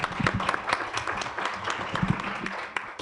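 Audience applause for a guest speaker at a Spanish-language academic lecture, with broadband clapping at a steady moderate level for about three seconds.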